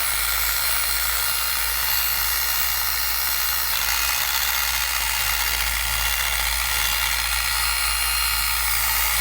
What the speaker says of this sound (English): let the Hybrid Nano Polisher kind of act like a drill brush